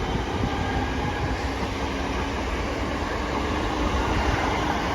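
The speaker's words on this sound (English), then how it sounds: "there goes 323213 working the West Midlands Railway service going down to Bromsgrove" West Midlands Railway Class 323 electric multiple unit running through Longbridge station, a steady, close rumble of wheels and traction noise holding at even loudness throughout, with no voices.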